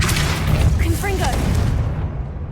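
A Confringo blasting spell in Hogwarts Legacy goes off as a loud, dense boom that fills the short moment with a brief whistling tone inside it, then fades slightly toward the end.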